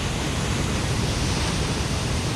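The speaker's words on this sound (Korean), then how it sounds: "흐린 날씨와 소용돌이 치는 높은 파도는 정박의 어려움을 예고하는데" High, swirling sea waves churn under cloudy skies near Ieodo, a dense, steady roar of surf and wind with no breaks.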